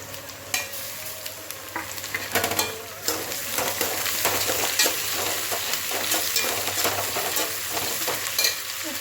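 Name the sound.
coriander and mint added to frying biryani masala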